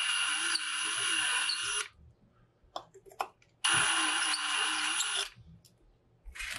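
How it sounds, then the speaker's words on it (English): A power drill with a step bit whines loudly in two long bursts through a pedal enclosure, separated by a quiet gap with a few clicks and small knocks, stopping abruptly each time. "with a step drill, feel each time it clicks down a layer"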